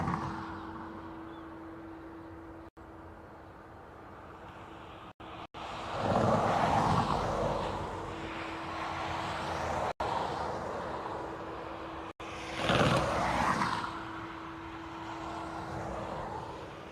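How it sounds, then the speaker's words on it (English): A Finnair airliner from Helsinki landing on the far side of Dublin Airport, a distant engine roar that swells twice over a steady low hum, heard from a spotting position. "And there's our first aircraft landing on the far side."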